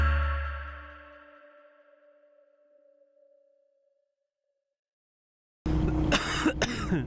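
A sick man's single loud, harsh cough bursts out near the end after a long fading tone and a moment of silence, close to the mic.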